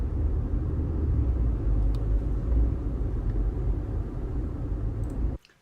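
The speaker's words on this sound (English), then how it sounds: "This is the sound of driving in Kuwait" A car being driven in Kuwait gives a loud, steady low rumble of engine and road noise that holds for several seconds before cutting off abruptly near the end.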